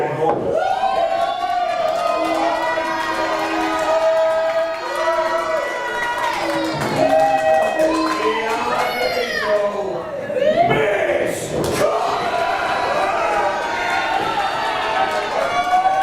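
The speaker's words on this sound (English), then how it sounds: "The crowd is hyped." A packed pro wrestling event crowd roars continuously, loud cheering and whooping filling the hall with a dense wash of many voices throughout.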